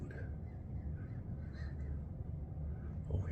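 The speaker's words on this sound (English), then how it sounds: "we're getting some crows coming to the dog food" Crows caw a few times while feeding on dog food outdoors, the calls moderately close over a steady low rumble of background noise.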